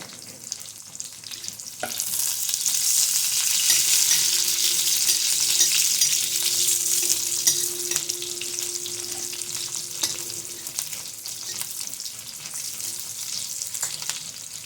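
Long slit green chillies and garlic hit hot oil in a pan over medium heat for methi bhaji, setting off a loud, steady sizzle that stays strong and close for several seconds before easing slightly.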